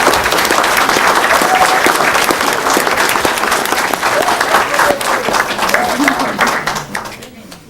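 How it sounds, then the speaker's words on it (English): A round of applause at a city council meeting, dense steady clapping from the room that holds strong for several seconds, then thins and fades out near the end, with a few voices underneath. "let's give him a nice round of applause."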